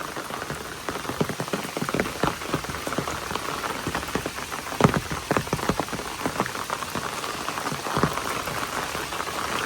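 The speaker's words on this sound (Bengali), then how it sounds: "আর 1-2 ঘন্টার মতো যদি এরকম ঝুম বৃষ্টি পড়ে" Heavy, steady downpour in a rural village during the monsoon, rain drumming densely on surfaces with scattered louder drop hits, continuous and close throughout with no voices.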